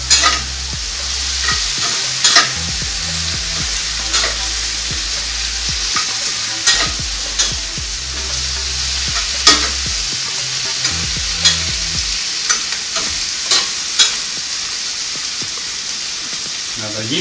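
Swiss chard fries in a pan and gets stirred with a flipper, a steady loud sizzle running throughout with periodic scraping clicks of the utensil.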